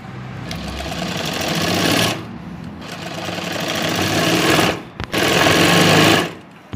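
A sewing machine stitches sleeves onto a blouse in loud rapid bursts of running stitches, pausing briefly between runs, with the motor's fast mechanical rattle close and clear and no voices present.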